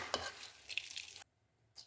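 Garlic puffed rice mandakki snack being stirred in a pan, a light dry rustling and scraping that stops briefly, then resumes for a short moment.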